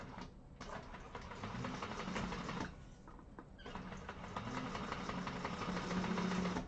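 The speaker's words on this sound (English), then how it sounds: "I'm going to kind of chain sew these and do them at the same time" A sewing machine chain-sews fabric pieces along a quarter-inch seam, giving a steady mechanical whir and rapid needle chatter with a brief pause midway, fairly quiet and with no voice.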